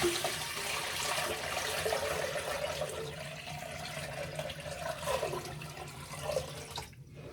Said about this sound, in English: pour off the water